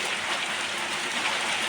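Rain mixed with ice falls steadily, a dense, even hiss of drops and pellets striking surfaces up close, with no voices.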